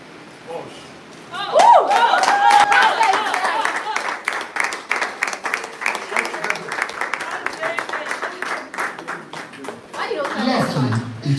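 Live-stream audience applauding the men's group after the women's the previous week, a burst of dense clapping that starts sharply and continues steadily for several seconds before tapering, with a voice over the end.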